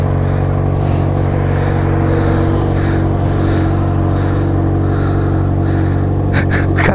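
Yamaha XJ6 motorcycle engine running at steady high revs with a constant, loud, close drone that barely changes in pitch, fitted with a fidget spinner in its exhaust.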